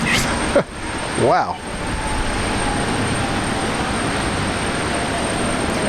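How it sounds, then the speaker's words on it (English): An airliner roars with reverse thrust after landing at Brisbane Airport, a steady broad rumble heard from a distance, with a short voice exclaiming early on over the noise. "There's the reverse thrust."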